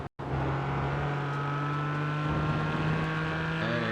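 Race cars in a racing video game session with a 40-car field, a continuous engine drone with steady pitch and rising revs toward the end, loud and without talk.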